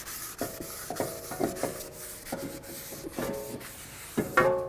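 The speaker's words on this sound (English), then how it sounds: "We're gonna clean up this braking surface." Rubbing and scraping as the braking surface of a brake caliper bracket on a 2007–2014 Ford Edge is cleaned, a run of short, uneven abrasive strokes close by with light metallic ringing and no talking.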